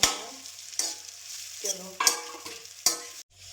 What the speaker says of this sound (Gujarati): ચલો હવે ઢોકળા નાખી દીધા. આપણે એને હલાવી દઈશું.